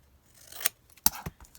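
A few quick, crisp snips as scissors cut out a piece of fabric for a Halloween sewing project, close and fairly quiet, with short gaps between cuts and no talking.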